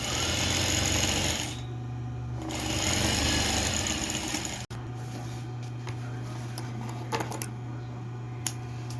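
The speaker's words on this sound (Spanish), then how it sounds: "vamos a coser por encima de la costura que realizamos anteriormente" A sewing machine stitches a seam on a fabric fish-shaped backpack, running in two steady whirring bursts with a pause between, then a quieter hum as the fabric is handled.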